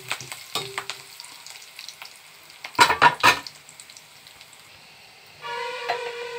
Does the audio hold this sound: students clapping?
no